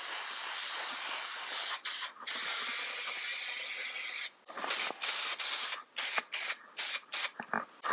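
Adhesive sprays onto Dacron wadding during chair reupholstery in a series of hissing bursts: a long continuous spray first, then a string of short, rapid puffs with brief gaps between them.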